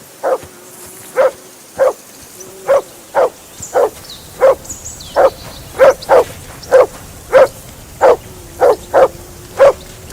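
A dog in the video game Kingdom Come: Deliverance II barks loudly and close by, a steady run of about seventeen sharp barks evenly spaced over ten seconds, with no talk over them.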